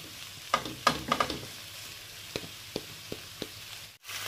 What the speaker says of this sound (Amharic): አሁን ሽንኩርቱም እንዳያችሁት በደንብ እየበሰለ ነው